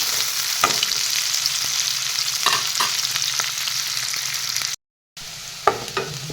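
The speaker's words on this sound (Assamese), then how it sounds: "এইখিনি ৰংচিঙা কৰি ল'ম প্ৰথমতে পিঁয়াজখিনি" Onions fry in a pan as the base for a fish curry with green peas, a dense continuous sizzle broken by scraping stirs and spoon knocks, with a brief cut to silence near the end.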